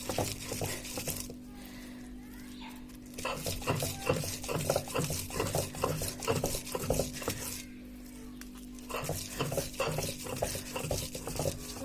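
Coriander leaves being ground into a paste for bhorta, heard as repeated scraping and stirring strokes with soft clinks of utensils, steady and close, with a low hum underneath and no talk.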